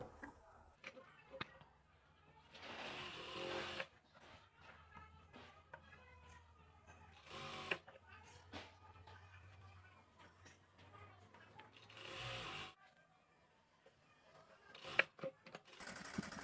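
Sewing machine stitching elastic into a salwar, short bursts of quick mechanical whirring separated by pauses and handling clicks, with a person talking between runs.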